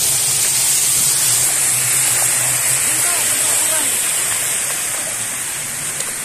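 A waterfall along a forest trail gives off a steady, dense rushing hiss that fills the whole scene, constant and close, with faint voices barely showing under the roar.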